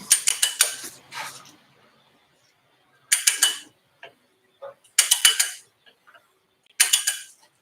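Ratchet wrench clicking in quick bursts of four or five sharp ticks, repeated several times with pauses, up close while snugging a crankshaft pulley bolt on a 2001 Jaguar XK8.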